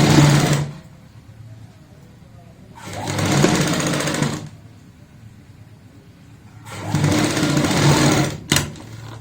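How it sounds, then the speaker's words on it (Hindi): A sewing machine stitches a fabric neckline strip in three loud, close bursts of rapid mechanical whirring, separated by quiet pauses, with no talking over it. "और यहाँ पे हम एक पैर चौड़ाई वाली सिलाई लगाएंगे।"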